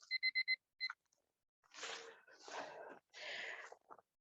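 Timer alarm going off during a kickboxing and stretching workout: a quick run of sharp repeated beeps and then one more, followed by rustling and handling sounds as it is shut off, in a quiet room.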